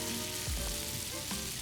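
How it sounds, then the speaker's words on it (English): Half a dozen spicy Italian sausages browning in hot oil in a pan, a steady close sizzle with a few low thuds of the links shifting, no talking. "now what you're going to do is you're going to brown up the sausages"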